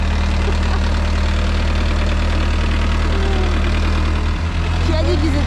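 A vehicle engine drones loud and steady from close by while driving on a road in Chile, a constant low rumble throughout, with voices faintly present beneath it.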